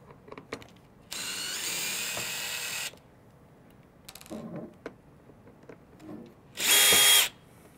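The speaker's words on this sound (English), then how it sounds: "we're removing these two screws in order to install the side bow into the header deck assembly" A power drill runs in two bursts, a sustained whine of about two seconds and a shorter, louder burst, backing out screws from a header deck assembly during a Trektop Glide top installation; brief clicks and handling noises fall in between, with no talk.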